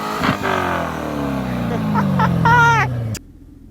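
A Chevrolet C7 Corvette Grand Sport V8 climbs steadily in pitch as it accelerates during a drive, then cuts off abruptly, leaving quieter background noise.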